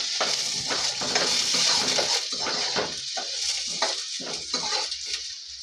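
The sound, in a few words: stirring onions frying in a pan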